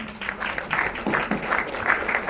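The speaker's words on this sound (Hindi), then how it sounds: "Ladies and gentlemen, Javed Akhtar साहब, एक बार जोरदार तालियां।" An audience applauds Javed Akhtar at a film trailer launch event, a dense, even patter of clapping from a crowd that continues without a break.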